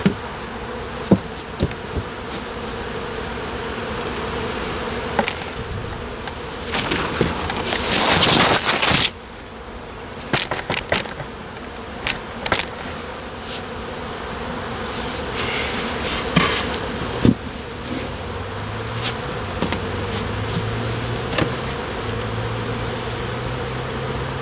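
A honey bee colony buzzes at its hive while being fed its first ration of about seven kilos of feed. The buzzing is a dense, steady drone throughout, broken by a few louder handling knocks and bursts, with no talking.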